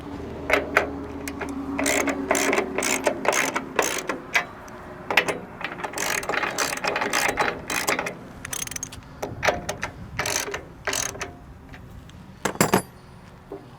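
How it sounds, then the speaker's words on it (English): Ratchet wrench tightening faceplate bolts on a VMAX 1500 blast wheel during a rebuild, heard as bursts of quick clicking strokes separated by short pauses, close and fairly loud in a quiet workshop. "Now that I've got everything in position, I'll tighten my faceplate."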